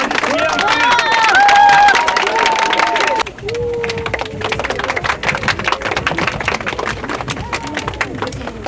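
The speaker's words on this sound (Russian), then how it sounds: "Аплодисменты!" An audience at a children's drawing contest applauds loudly, with dense clapping mixed with crowd chatter and a voice, then easing into softer, scattered clapping and murmuring.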